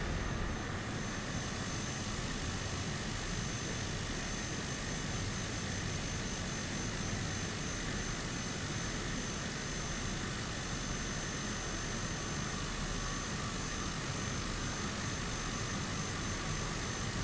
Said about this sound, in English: So you have a high-pitched whine?